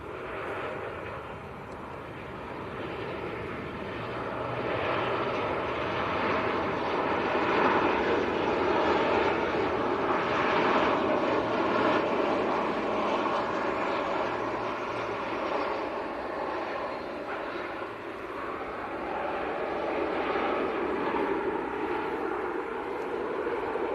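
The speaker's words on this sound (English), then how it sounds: "And yet another aircraft from Antalya on finals" A Sun Express airliner arriving from Antalya on final approach to land at Manchester Airport, its jet engines a steady, loud roar that swells and holds for the whole stretch, with no voices.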